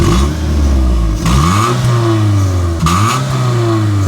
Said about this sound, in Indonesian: Tidak ada suara-suara kasar. Dari dalam mesin ini pembakarannya masih sempurna.